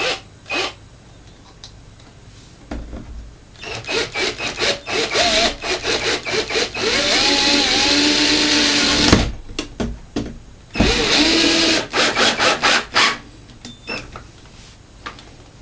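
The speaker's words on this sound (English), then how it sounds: "So I'll put a screw in the top now" A power screwdriver drives a screw into a wooden stud behind a plasterboard wall to fix a radiator bracket, with loud bursts of whirring that rise and fall in pitch, separated by short pauses.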